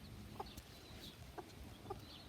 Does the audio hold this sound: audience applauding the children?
no